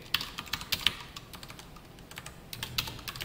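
Typing on a computer keyboard during a Python coding lesson, with irregular bursts of key clicks close by, several sharp taps clustered near the start and again near the end.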